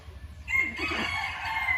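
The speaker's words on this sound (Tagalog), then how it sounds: "Naririnig niyo ba yung mga huni ng ibon ay ng manok?" A rooster crows once from nearby in a quiet rural province setting, a drawn-out call rising after a short lead-in.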